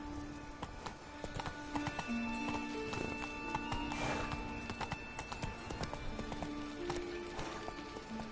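The horse Roach gallops in The Witcher 3 on PS4, with steady clip-clop hoofbeats and a whinny over game music and ambience, heard fairly quietly.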